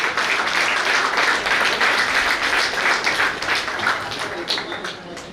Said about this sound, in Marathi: वन्स अगेन माईसाठी जोरदार टाळ्या उद्या